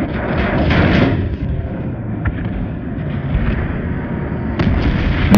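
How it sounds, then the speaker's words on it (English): A video-game explosion in a battle with medics and revive grenades, sounding as a loud, sustained rumbling blast with scattered booming bursts that stand out with little talk over them. "I wanna see that explosion!"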